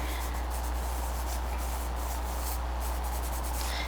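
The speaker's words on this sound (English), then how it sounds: "you kind of use your finger or your cloth and just kind of make a circular motion, and that helps to kind of just evenly blend it" Charcoal on paper is blended in circular strokes with a finger or cloth, a close, continuous soft rubbing hiss with faint rhythmic swells under a low background hum.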